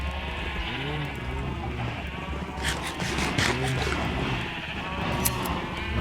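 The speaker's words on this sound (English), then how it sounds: "we're gonna shear a bunch of sheep" Several sheep in Minecraft bleat in turn, with wavering cries repeating every second or so over a steady ambient background.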